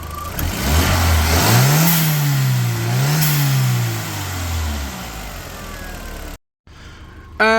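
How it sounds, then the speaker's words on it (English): A Mk1 Audi TT engine idles steadily close by, its pitch rising and dipping as it revs, then briefly cuts out near the end. "car's ticking over fine"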